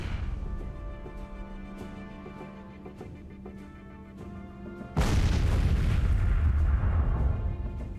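Artillery opens fire in the sci-fi train RTS Miner's Mettle. After several seconds of quieter mechanical ticks and a low hum, a sudden loud, heavy boom erupts and rolls on as a sustained roar.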